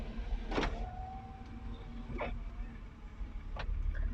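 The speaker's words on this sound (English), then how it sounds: "let's just open the windows" Car power windows whir as they open, a few short motor hums over a low idling engine fitted with a cone air filter, quiet and close.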